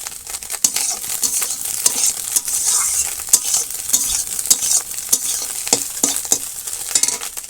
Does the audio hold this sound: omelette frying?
yes